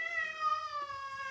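A cat meows in the background of a room in a Soviet-era block apartment: one long, drawn-out, slightly falling meow, steady and fairly clear over faint room noise.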